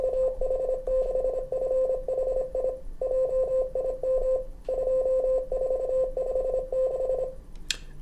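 A steady Morse code CW contest exchange is keyed out in rapid dits and dahs, forming a single clear tone that sounds in bursts with short gaps, before a brief click at the end.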